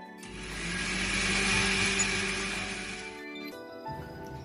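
A kitchen mixer grinder whirs loudly and steadily for about three seconds, grinding onion, tomato, chili powder and spices into a paste for egg gravy, then cuts off abruptly.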